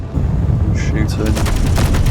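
Rapid bursts of gunfire from a sci-fi space survival game with mechs, a string of sharp repeated shots over constant loud background noise and engine hum.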